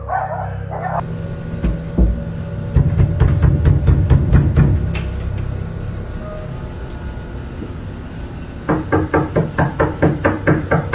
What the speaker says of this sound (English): the late night knocks were blamed on a very different, but equally bizarre cause